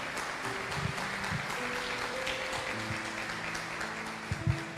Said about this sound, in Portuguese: Você pode aplaudir a Ele nessa noite?